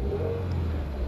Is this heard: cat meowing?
no